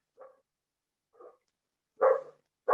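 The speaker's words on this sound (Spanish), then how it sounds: "Ese perro no es mío, no sé de dónde vino." Dog barking nearby, four short barks separated by pauses, the first two soft and the last two louder, with no talking.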